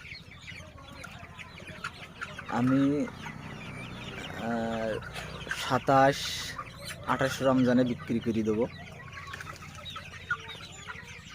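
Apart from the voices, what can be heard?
Sonali super hybrid chickens clucking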